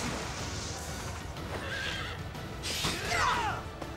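In a video game, a knight's flash-stepping horse gives two shrill whinnies over a steady background wash, the second louder than the first.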